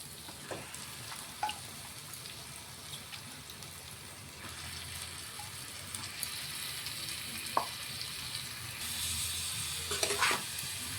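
Salted, turmeric-rubbed chicken pieces drop into frying masala for a Bihari-style chicken curry, setting off a steady, fairly loud sizzle with scattered clinks and scrapes, and a brief flare of hissing near the end.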